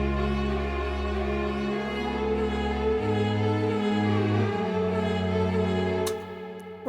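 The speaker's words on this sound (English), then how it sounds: "And then there's an instrumental break here where we add in some strings." Sustained MIDI string ensemble chords in an instrumental break, a thick, smooth pad with shifting low notes, steady and loud, cutting off near the end.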